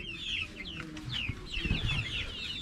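Two large hens cluck softly nearby in a low, uneven run of short calls, with faint rustling and a few dull knocks underneath.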